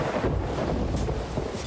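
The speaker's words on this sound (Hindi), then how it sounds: "अरे यहाँ पे पूरा तूफान हमारे बिल्कुल ऊपर ही है" Thunderstorm raging directly overhead at sea in the pirate game Sea of Thieves: a low, rolling rumble of thunder mixed with gusting wind, fairly loud and continuous for a brief moment.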